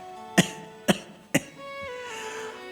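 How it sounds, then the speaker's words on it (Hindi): An elderly man coughs three times, each a sharp, loud burst spaced about half a second apart. A sustained, wavering vocal sound follows, close and clear over a quiet background. "दादा खांसी"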